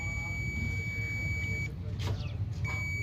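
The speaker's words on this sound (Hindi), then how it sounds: "ये मल्टीमीटर बीप दे रहा है।" A multimeter gives a steady continuity beep while a wire in a 2014 Suzuki Alto radiator fan circuit is tested, a long tone that breaks off and returns, over a constant low hum with a voice talking.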